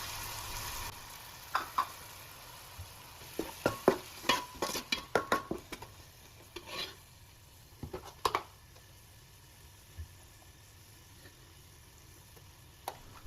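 Tomato paste for egg dum biryani cooks quietly in a pan, with a soft low sizzle beneath a cluster of sharp utensil scrapes and taps from stirring, mostly bunched in the middle.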